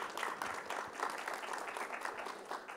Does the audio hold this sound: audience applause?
yes